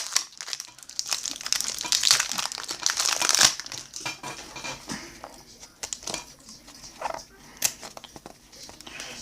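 Crinkling and tearing of 1993 Topps Stadium Club Series 2 baseball card pack wrappers, close and fairly quiet, in bursts of rustling with brief pauses between.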